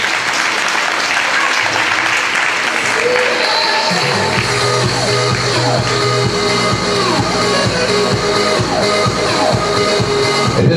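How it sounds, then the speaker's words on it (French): An audience at a Tex fashion show claps loudly for the models, dense, sustained applause filling the room while music starts up and plays beneath the clapping. "vous pouvez les applaudir très fort"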